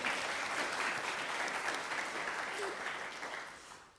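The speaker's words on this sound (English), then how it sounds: "Round of applause for Taylor." Sustained audience applause at a provincial Three Minute Thesis final, a dense even patter of many hands heard at a distance that holds steady and then fades toward the end.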